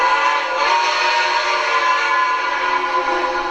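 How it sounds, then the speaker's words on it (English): A model locomotive whistle sounding from a Signatrack ACE 3 DCC controller, one loud sustained chord-like blast holding steady for the whole stretch with no talking. "The whistle, which is rather nice on this mode."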